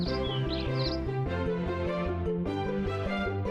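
A voice imitates sparrows chirping, with brief high chirps near the start over steady background music that carries on through the rest.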